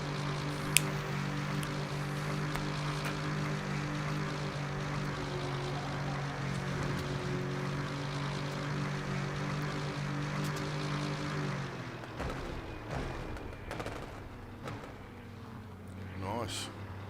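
In the racing game Rennsport, an Aston Martin race car with an AMG engine holds a steady, humming drone for about twelve seconds. The engine then drops away abruptly, leaving a quieter, shifting engine note with scattered clicks.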